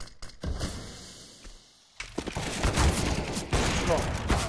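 Gunfire in CS:GO, with sharp shots and several dense volleys in the second half, following a short quieter stretch with a few clicks.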